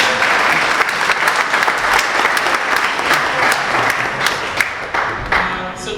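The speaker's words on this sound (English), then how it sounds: "please give her a applause" Applause from an audience at an ancestral tribute event, a dense steady patter of many hands clapping for six seconds, fading slightly at the end with faint voices beneath.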